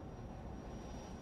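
An airliner jet taking off from a runway gives a steady broadband engine roar, faint and distant, with a thin high whine held throughout the short stretch.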